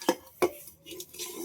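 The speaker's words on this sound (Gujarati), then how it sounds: "આ ચણા વઘારેલો નાસ્તો બનાવ્યો તો એના વાસણ ઉઠું છું" Two sharp metallic clinks of kitchen utensils being picked up after making a tempered chana snack, quiet and close, followed by faint soft clatter.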